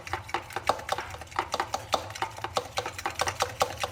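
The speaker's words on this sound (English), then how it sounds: "Break the yolk, stir it all together." Egg yolk is broken and stirred in a bowl, making quick, regular tapping and scraping strokes of about four per second, close and clear with no voices.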